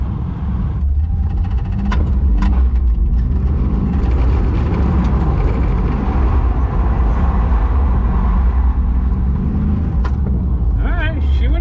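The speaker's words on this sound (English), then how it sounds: "The old 4-cylinder burnout." Four-cylinder engine of a BMW project car revving hard through a burnout, a loud sustained roar with whirring tire noise, close up, with talk over it.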